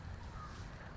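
A crow caws in a city park, its harsh call faint and mixed into steady outdoor background noise for about a second.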